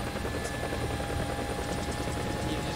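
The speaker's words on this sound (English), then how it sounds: "Oh, so this is what a helicopter is." Steady, continuous rotor thrum of an Mi-24 helicopter in a video game, dense and loud throughout with no gaps and no talking.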